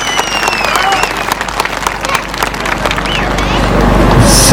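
A crowd at an outdoor political rally in Turkey applauds in a dense patter of claps, with cheering and scattered voices mixed in and the sound swelling toward the end.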